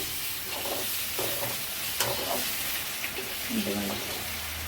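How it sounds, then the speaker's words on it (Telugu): Onions, tomatoes and eggs frying together in a pan for egg masala, a low continuous sizzle with intermittent stirring scrapes and soft bubbling, close and moderately quiet. "ఆనియన్స్, టమాటోస్ ఇక్కడ ఎగ్స్ కూడా ఫ్రై అవుతున్నాయండి."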